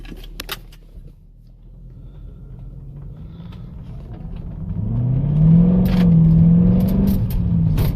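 A Mercedes-Benz SLK55 AMG engine with quick throttle response, heard from the cabin: a few clicks and a quiet idle, then the revs climb into a loud, rising growl that holds near the end.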